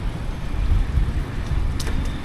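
Traffic on the road to Angkor Wat in Cambodia passes close by in a steady roadway rumble, with vehicles and engines droning and a brief higher whine partway through.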